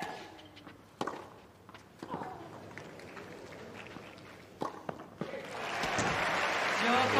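A tennis crowd at a WTA 1000 match in Rome breaks into applause and cheering, swelling in the last seconds after a few sharp, isolated knocks in a quieter stretch.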